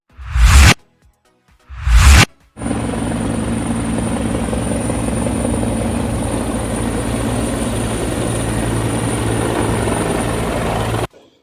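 A helicopter carrying Chief Minister Yogi Adityanath arriving at Pilibhit, its loud rotor roar holding steady and close after two short whooshing bursts, with no talk over it.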